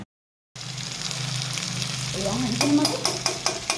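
A pan of pigeon meat curry sizzles steadily after a brief silence, and stirring adds a run of metallic scrapes and clinks in the last second or so.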